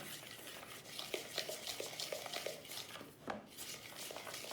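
A spoon stirring a thick edible honey slime mixture in a bowl, soft repeated scraping and sticky knocks at an even pace, quiet and close, with no voices.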